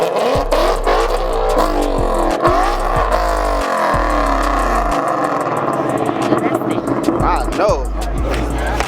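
Cars rev their exhausts at a busy car meet, with loud repeated engine bursts and deep rumbling, crowd noise underneath throughout.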